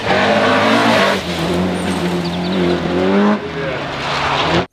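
A toy race car plays a loud, close electronic engine sound, a buzzing revving drone that rises and dips for a few seconds before stopping abruptly.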